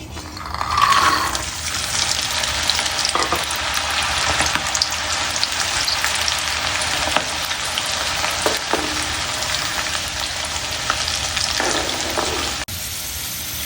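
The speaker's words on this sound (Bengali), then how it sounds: "মটর কলাই এটা আমি এখন ভেজে নেব।" Soaked, sprouted dried peas (motor kalai) fry in oil for homemade chanachur, a continuous close sizzle with occasional scraping stirs and clicks of the spatula against the pan, no one speaking.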